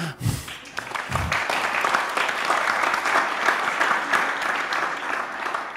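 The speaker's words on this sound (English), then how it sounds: "Round of applause, please." Symposium audience at a plenary session giving a round of applause, dense and sustained clapping from a large crowd filling the room at steady volume, with a couple of brief thumps at the start.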